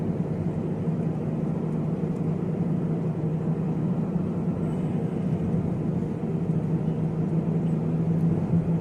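A Renault Duster's engine hums in a steady, even cabin drone while driving and speeding up, a dense continuous rumble with road noise and no talk.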